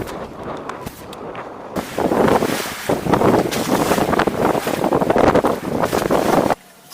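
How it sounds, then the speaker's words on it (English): Strong wind roars and buffets the microphone aboard a trimaran sailing upwind with one hull lifted, mixed with rushing water along the hulls, steady and loud before cutting off near the end. "I have now the wind completely from the front."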